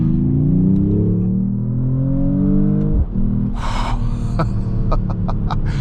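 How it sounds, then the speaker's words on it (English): A 2026 Mercedes-AMG E53 Hybrid wagon's engine revs up and drops sharply in pitch as it downshifts, followed by a brief burst of rushing noise and a few quick clicks. "Kind of hear the engine fire up here. Quick downshift sounds here."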